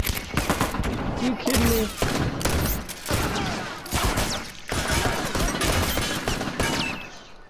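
Heavy gunfire in a firefight in The Last of Us, including an enemy with a shotgun, with repeated loud shots and bursts under a shouted voice.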